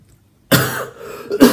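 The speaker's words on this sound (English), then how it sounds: "Excuse me, that's not the whiskey, that's my cough." A single sharp cough bursts out after a moment of silence, followed by a short rough throat-clearing rasp, close and loud.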